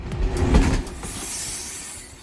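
Amtrak's northbound Silver Meteor passenger train rumbles past nearby with a low mechanical roar and faint wheel clatter, fading to a steadier hiss as it moves on.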